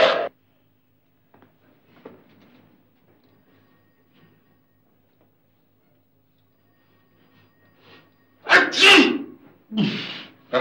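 A person sneezes loudly and close, a sharp burst near the end of the quiet stretch followed by a second, shorter burst, with only faint shuffling before it.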